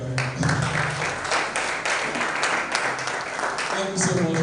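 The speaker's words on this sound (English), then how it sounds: "so you clap again for him" Renewed clapping from an audience at a writers and readers bootcamp, a steady wash of many hands throughout, with voices murmuring underneath.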